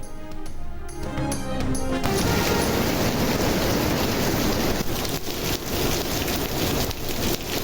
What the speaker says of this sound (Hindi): लाहौर के मुख्तलिफ इलाकों में सुबह सवेरे बारिश, कसूर और गिरदोनवाह में मूसलाधार बारिश।